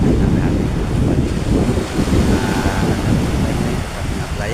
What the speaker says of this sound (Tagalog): Malaki na hangin at malaki na hangin mga kabady.